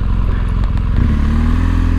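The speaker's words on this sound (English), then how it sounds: "That plop makes me wonder how this would sound with an aftermarket exhaust." A 2017 BMW R1200GS motorcycle with its stock exhaust, its boxer engine thrumming in a steady close low rumble with a slight shift in pitch partway through, and no voices over it.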